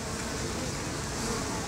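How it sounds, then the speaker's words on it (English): Bees at the entrance of a hive, filmed up close, give a steady, dense buzzing drone that holds at an even level throughout with no talk. "a bee just wanders out straight through the focal plane and then takes off"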